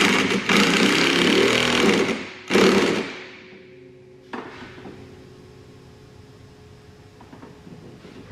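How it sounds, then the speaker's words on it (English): An impact wrench drives a nut on a burnt Landini tractor in two loud, rattling bursts with a brief gap between them, followed by a quieter hum and faint clanks. "I'll use my impact and I'll drive that nut in."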